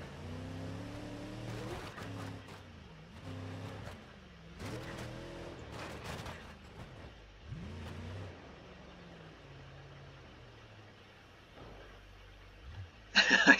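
In the BeamNG driving game, a simulated car engine revs in bursts down a steep descent, rising and falling several times with engine braking in first gear, then trailing off to a quieter stretch before a brief loud burst at the end.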